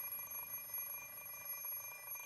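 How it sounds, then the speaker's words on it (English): Continuous high-pitched electronic beeping of an alarm clock in the visual novel game Fate Stay Night, a steady shrill ring with no talking over it. "The alarm clock is deaf to my complaints."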